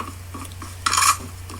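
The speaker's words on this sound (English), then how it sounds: "Let's reload." Gun being reloaded in a Roblox zombie game (Ready Player One event), one short metallic clack and rattle standing out over a quiet background hum.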